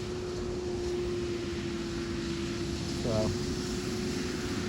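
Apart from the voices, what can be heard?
tractor driving fast on road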